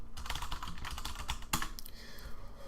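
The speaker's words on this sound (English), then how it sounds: "and we type it correctly" Close, busy clatter of computer keyboard typing, quick keystrokes tumbling in bursts with one louder key hit midway, over a faint steady hum and no speech.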